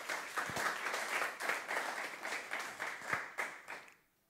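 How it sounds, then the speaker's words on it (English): A conference audience applauds a speaker at a PostgreSQL talk, moderate clapping with a few sharp, close claps in a loosely pulsing rhythm that dies away into quiet at the end. "please give a warm applause to Michael Banck"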